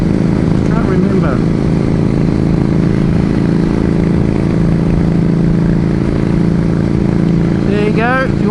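A BMW G310GS adventure motorcycle engine runs steadily close by, a loud continuous drone with mechanical clatter, while people talk over it.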